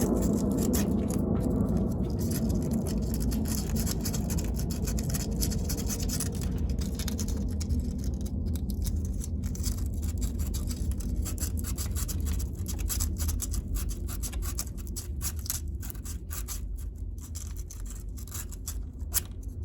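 Sandpaper rubbed steadily against a car battery terminal, a continuous close, dense scratching scrape with small irregular variations, no voices.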